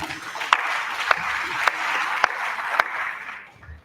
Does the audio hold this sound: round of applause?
yes